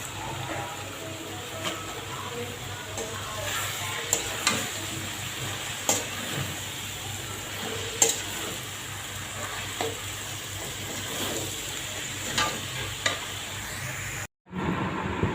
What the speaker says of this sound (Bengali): কুমড়ো শাক আমি শুটকি দিয়ে দিলাম। সুন্দরভাবে কষাইয়া তারপরে